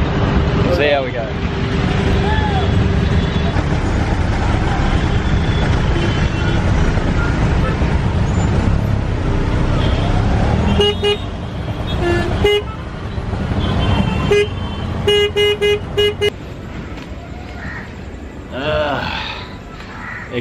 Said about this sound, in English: It's a pretty hectic drive there through Chennai peak hour traffic.